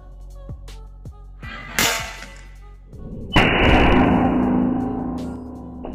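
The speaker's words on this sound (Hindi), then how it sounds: "ये थ्रो बम छोटा पैकेट बड़ा धमाका था" A sharp pop rings out, then a second, louder blast from a homemade matchstick throw bomb bursts into a harsh roar of noise that slowly fades, heard close by.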